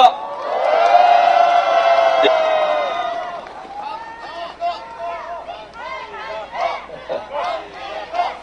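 A crowd at an outdoor anti-FTA rally greets lawmaker Kang Gi-gap with a long, loud sustained shout, then scattered cheers and calls continue more unevenly as voices mix over the fading noise.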